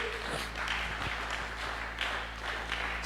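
A church congregation applauds after a sermon, a dense, steady wash of clapping from many hands, moderately loud and continuous throughout with no talk over it.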